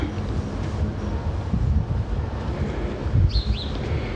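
Wind gusts through a summer garden, a steady broadband rush with microphone buffeting close to the mic and a faint bird chirp near the end, with no voices.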